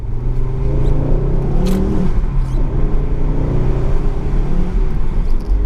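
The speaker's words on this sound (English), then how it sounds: "Let's start up, go for a drive" Close by, the engine of a Ford RS car with its standard exhaust starts and then revs, a loud steady rumble with a few sharper throttle blips, and no voices.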